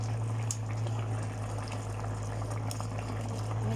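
Gentle bubbling and sputtering of curry gravy simmering and thickening in a pan, a close, continuous soft burble over a low steady hum, with no talking.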